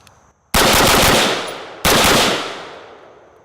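AR rifle firing a full magazine in two long, very loud rapid-fire bursts, dense overlapping reports up close, each burst trailing off in a fading echo.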